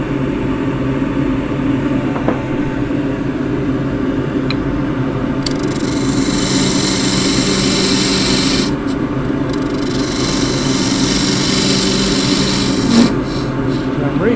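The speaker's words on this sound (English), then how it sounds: "I'm going to use a skew peeling to do that." Redgum box lid spinning on a wood lathe while a skew chisel takes a peeling cut, a steady close rasping scrape with a bright hiss that swells midway, no talk.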